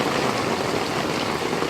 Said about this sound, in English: But the overflow is working